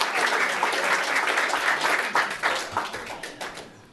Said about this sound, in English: Let's have a big round of applause for Ralf Schink, ladies and gentlemen